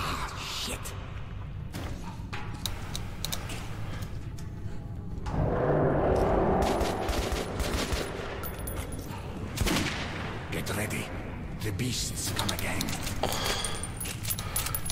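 Bursts of gunfire in the Metro 2033 video game, rapid shots cracking off in clusters through a dense, noisy fight, with voices talking over the action.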